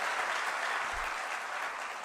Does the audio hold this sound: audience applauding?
yes